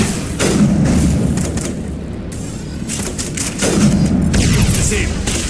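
Rifle fire in Mass Effect, a mid-loud run of muffled gunshots and thumps repeating across the stretch, mixed with game sounds and explosions.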